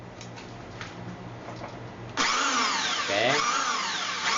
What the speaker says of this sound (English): run the drill while you are applying oil